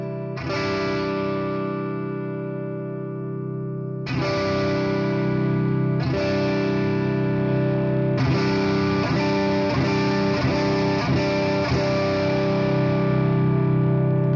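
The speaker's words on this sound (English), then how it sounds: "It can go all the way until you are listening to a guitar from a telephone or something." A distorted electric guitar plays sustained chords through an OKKO FX Dynamist effects pedal, with a thin, boxy, telephone-like tone; several strummed chords ring out in succession.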